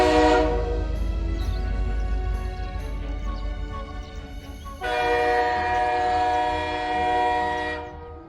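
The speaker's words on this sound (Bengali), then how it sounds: "ভালো গাড়ি পাবার লোভে সুকমল আফতারের সঙ্গে 21 মাইল ট্রেন জার্নি করে চলে এসেছে নীলগঞ্জ।" A cartoon train rolls along loudly with a continuous rumble, and repeated bright horn or whistle blasts ring out over it.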